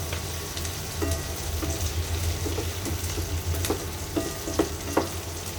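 Vegetables frying in a pan give a steady close sizzle, with intermittent stirring scrapes and clinks over it, and no voices.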